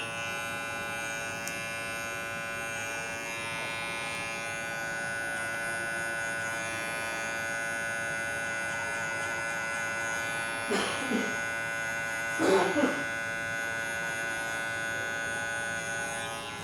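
Electric hair clippers buzz steadily through a short back and sides haircut, a constant close hum with two brief louder bursts as the blades bite into hair.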